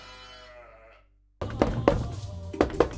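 A sheep gives a drawn-out bleat that fades to silence, followed by a burst of thumps and knocks close by.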